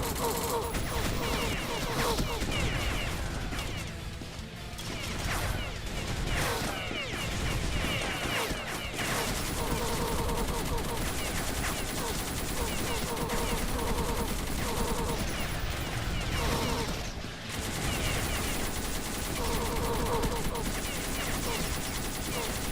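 Enemy gunfire in the Beyond Citadel game rattles almost nonstop, a dense loud clatter of shots and impacts that barely pauses throughout.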